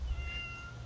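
A cat gives a single faint, thin meow in a quiet room, heard alone with no talking.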